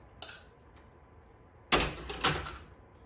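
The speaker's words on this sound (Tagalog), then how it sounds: "And then you just keep mixing and get all the goodness from where you cook your picnic roast." Rice being mixed in the pan where a picnic roast was cooked, giving a short scrape of utensil on metal followed by a louder, longer stretch of stirring and clattering against the pan, close and without talk.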